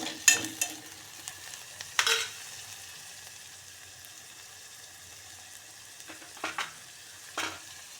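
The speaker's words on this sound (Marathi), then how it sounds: "मस्त सोनेरी होईपर्यंत तळून घ्यायचं. मध्ये त्याला हलवत राहायचं" Food frying until golden in a pot while being stirred to keep it from sticking: a faint, low sizzle under a few scattered scrapes and clinks of the spoon, mostly quiet between stirs.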